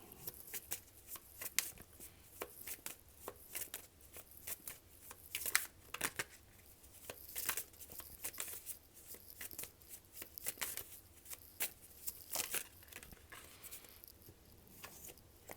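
Tarot cards are shuffled by hand in a quiet room, with rapid crisp riffles and soft slapping flicks repeating in uneven bursts, near and fairly faint, with no talking.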